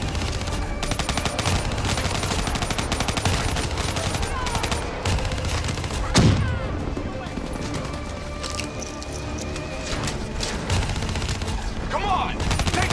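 Dense gunfire and explosive swarm launcher shots in a Call of Duty: Black Ops 3 firefight, relentless rapid shooting with a sharp blast midway, loud and close under shouted voices.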